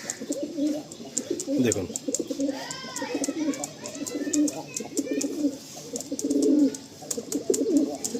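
Pigeon coos from a male and female pair, soft repeated rolling calls close by, mixed with chirps and intermittent Bengali talk throughout.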